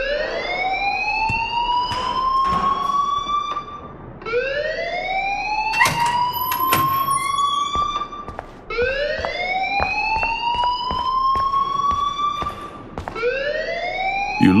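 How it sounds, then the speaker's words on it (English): A wailing fire alarm siren in the Life Is Strange video game rises and falls in repeated sweeping cycles, loud and continuous with no voices over it. "please turn off that alarm since that's your job."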